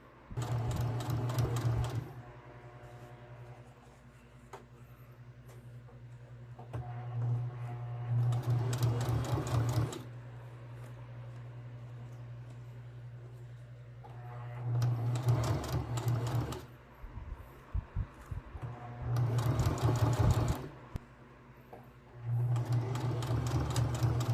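A sewing machine stitching ribbon onto a shirt runs in several fast humming bursts of two to three seconds, separated by quieter pauses with light handling sounds.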